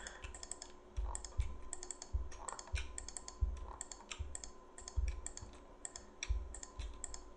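Computer keyboard presses and mouse clicks during Photoshop editing: a close, quiet run of irregular tapping and clicking, single presses and short clusters spread evenly throughout, with no voice.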